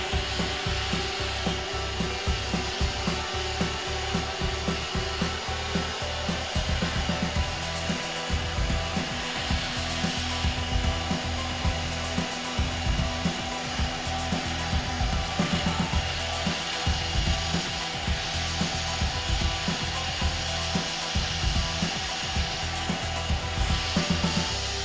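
A brazing torch heats a copper coupon in the vertical position, giving a steady, even roaring hiss that runs unbroken at moderate level throughout, with a faint crackle and no speech.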